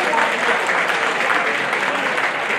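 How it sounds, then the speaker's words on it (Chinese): Audience applause at an alumni association meeting of a military academy class, a steady, loud burst of clapping from a crowd filling the whole stretch. "我们再次给第五届的鼓掌"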